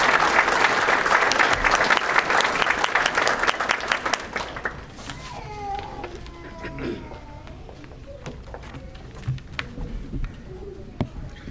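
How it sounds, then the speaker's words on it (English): Applause at a college certificate ceremony rings out loud and dense for several seconds, then thins to scattered claps with faint murmuring and movement in the room. "A round of applause, please, for all of our special guests, especially for our faculty."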